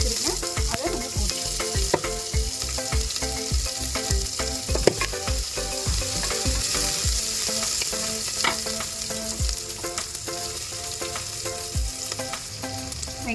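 Chopped onions frying in oil in a pan for sambar rice, a loud close sizzle with repeated rhythmic scraping and clanking of a spoon stirring throughout.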